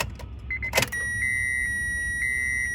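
A Honda Civic with a fuel pump fault has its ignition key turned: a short jangle and click, then a steady high electrical whine from the pump priming, close and sustained.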